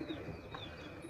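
Imported-bloodline pigeons coo softly in a loft, a low murmuring call repeating through a steady quiet background with no talk.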